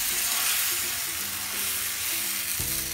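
Peas sizzle in oil on a hot tawa over high flame, producing a continuous loud frying hiss up close, with a brief clatter near the end and no talking.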